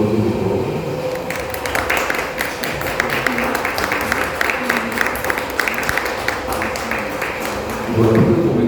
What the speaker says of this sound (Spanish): concedemos un aplauso de favor